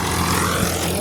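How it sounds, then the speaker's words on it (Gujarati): A farm tractor's diesel engine runs steadily out in a field, a close, loud, unbroken drone. "આવી જો મિત્રો આપણું ટ્રેક્ટર ચાલુ થઈ ગયું છે."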